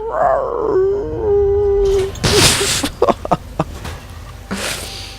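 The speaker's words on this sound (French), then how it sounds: "Le chien qui attaque." Dog attacking in the video game Syberia 3, a loud wavering howl sliding into a long sustained tone, then sharp snarling bursts and several short yelps close up.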